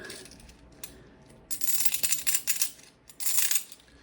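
Loose silver coins jingle and clink together in bright, shimmering bursts, rattling near and loud in two main shakes after a quieter start.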